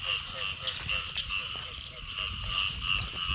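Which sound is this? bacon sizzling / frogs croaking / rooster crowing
frogs croaking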